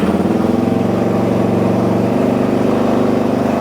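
A small engine on a machine called the Iron Canary catches and runs steadily, with a close, loud, even rumble throughout.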